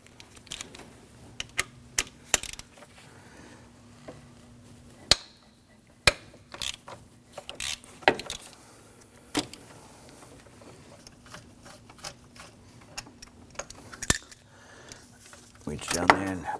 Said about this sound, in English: just switch over to a breaker bar or just a good old ratchet and go